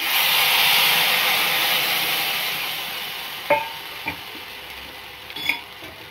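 Sizzling green chilli tempering in a kadhi pan, a steady frying hiss that fades after buttermilk is poured in, followed by a few soft clinks and taps near the end; no voices.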